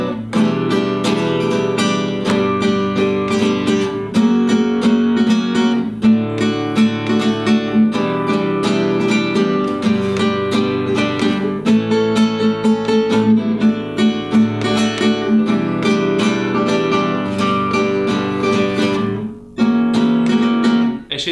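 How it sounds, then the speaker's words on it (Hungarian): Acoustic guitar strummed in full barre chords with a flamenco-style chord technique, from a composer's suite, played alone with dense continuous rhythmic strumming and bright ringing strings throughout, no speech. "látszik, hogy itt báréket fogok meg mindenféle akkordokat, és végén visszatérek"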